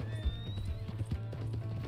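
A horse clip-clops along in Red Dead Redemption 2, its hooves making a steady, quick rhythm of soft thuds over a low engine-like hum and faint game music.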